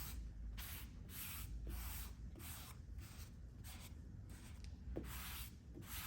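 A brush laying on a thin second coat of shellac, soft rhythmic swishing strokes repeating roughly every half second, close and quiet, with no talking.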